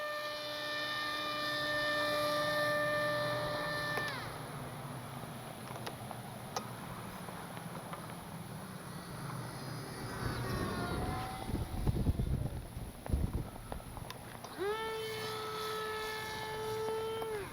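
An H-King Bixler 1.1 m V2 RC airplane's electric motor winds up to full throttle with a steady high whine that drops away mid-clip, leaving wind noise and buffeting before the motor tone returns strongly at the end.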